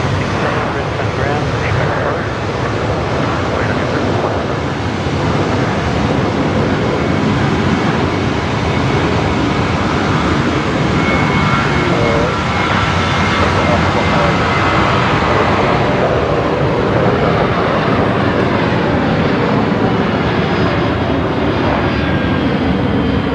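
Airliner departing Brisbane Airport at night, a loud continuous jet engine roar sustained across the whole stretch, with people talking over it.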